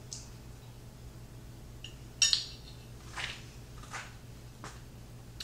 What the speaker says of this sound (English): then just slice into it and take your bite